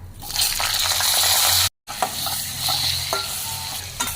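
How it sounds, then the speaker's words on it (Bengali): Whole spices frying in white oil in a wok, a bright continuous sizzle with stirring scrapes, briefly cut off by a silent gap, then resuming with spoon clicks. "মশলাগুলো ভালো করে এবার কষিয়ে নেব।"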